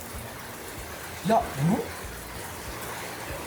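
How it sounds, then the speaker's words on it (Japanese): Heavy rain makes a steady, dense hiss that fills the whole clip, and a brief voice speaks over it partway through. "雨うるさすぎる。"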